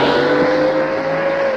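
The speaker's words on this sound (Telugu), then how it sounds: "డైరెక్టర్ గారు, కారు వచ్చేస్తుంది." A car approaching with a loud, steady engine drone, its pitch holding level as it draws near, alone without talk.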